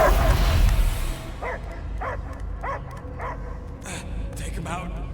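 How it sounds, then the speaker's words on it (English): A dog barking and whimpering in the Marvel's Guardians of the Galaxy video game: a series of short, evenly spaced yips and barks at moderate distance over a low game ambience, following a loud burst at the start. "I hear only barking."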